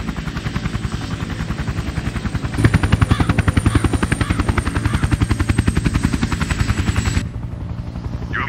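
Helicopter in the Sniper: Ghost Warrior 2 video game, a loud rapid rotor thump with a high whine, growing louder partway through before cutting off abruptly near the end.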